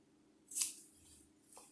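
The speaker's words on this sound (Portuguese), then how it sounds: "Em todas as quinas eu vou cortar o excesso de tecido." Scissors snip excess fabric at the corners of a tote bag, one crisp close cut followed by a second, quieter snip, with nothing else in between.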